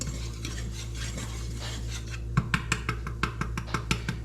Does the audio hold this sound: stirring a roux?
yes